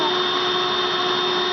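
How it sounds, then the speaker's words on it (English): A vacuum cleaner run by a small child drones loud and steady, a continuous whine with sustained tonal hum from start to finish, close to the microphone. "Are you vacuuming?"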